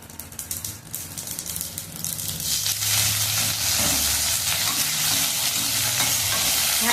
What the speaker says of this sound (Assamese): ভালকৈ ভাজি ল'ম, কাৰণ নৰসিংহৰ পাতৰ স্মেলটো খুব ধুনীয়া আহে।